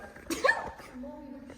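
A single sharp sneeze bursts out, followed by a brief quiet voice afterward.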